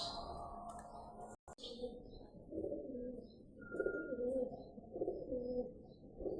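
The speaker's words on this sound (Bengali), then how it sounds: "ওটা হচ্ছে নর কবুতর।" A male pigeon coos in a series of soft, rhythmic, repeated rolling calls at moderate distance in a quiet setting, after a brief sharp interruption early on.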